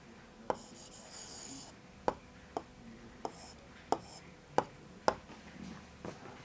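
Pen strokes on paper as an Urdu word is written by hand, a soft scratchy scrawl broken by about eight sharp little taps or clicks, close and quiet, with no talking.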